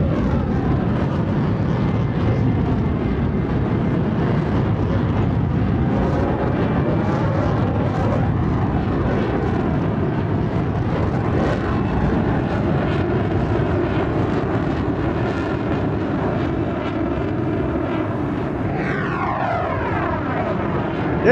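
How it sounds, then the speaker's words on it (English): Twin-engine DC-3 propeller airliner in a flight simulator game drones steadily and loudly throughout, a rough continuous engine roar with slight wavering pitch and no speech. "The engine sounds like it's about ready to stall."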